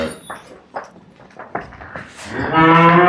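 A freshly calved cow at a livestock sale lets out a long, loud moo at the end, preceded by faint shuffling and a few scattered noises nearby.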